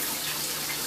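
Water pours steadily onto a tray of sunflower sprouts, a continuous close splashing rush with no pauses.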